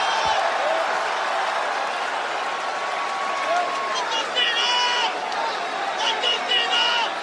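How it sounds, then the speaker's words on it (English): Large wrestling arena crowd cheering and roaring in a dense, steady wash, with scattered clapping and shouts rising near the end, heard under someone talking. "They're cheering."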